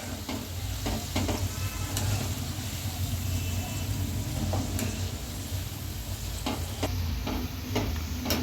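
Ivy gourd pakoda deep-fries in hot oil, giving a continuous close crackling sizzle with occasional stirring clatter throughout.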